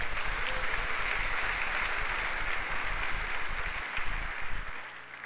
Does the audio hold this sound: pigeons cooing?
no